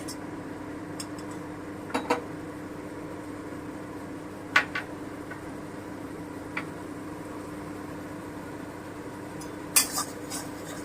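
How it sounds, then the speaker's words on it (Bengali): A frying pan with coriander powder and spices being stirred, heard as a few sparse metal clinks and scrapes of the utensil against the pan over a low, steady background hum. "একটু নেড়ে নিচ্ছি"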